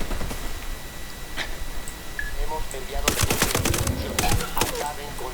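Bursts of automatic gunfire in the video game Ghost Recon Wildlands, sharp rapid volleys in the second half, with players talking over the game sounds.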